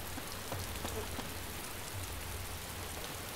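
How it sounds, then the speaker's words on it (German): Rain falls in the DayZ video game, a steady even hiss of drops on surfaces across the whole stretch, soft and continuous with a few faint ticks. "Es regnet gerade auf dem Server, wo ich jetzt bin."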